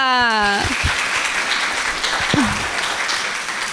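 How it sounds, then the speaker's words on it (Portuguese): Applause for Mônica, a steady wash of clapping under a voice that speaks at the start and briefly again partway through. "Palmas para a Mônica."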